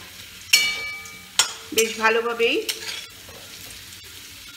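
Potatoes frying in oil in a pan for a snakehead fish curry (shol macher kalia), with a few sharp utensil clatters and a soft sizzle beneath, and a brief spoken phrase in the middle.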